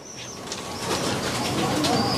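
Soft cooing from a female pigeon close by, steady and low, mixed with faint background chirps and rustle.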